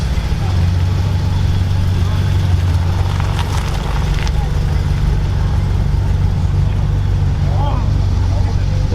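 An old Aston Martin V8 idles at close range at a French charity rally, a steady deep engine drone with a brief clattering burst partway through, and voices talk over it.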